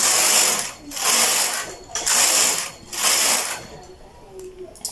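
A knitting machine carriage is pushed back and forth across the needle bed while knitting sleeve rows. It makes close, loud, rasping mechanical sweeps, about four passes with short pauses between, and the last one is fainter.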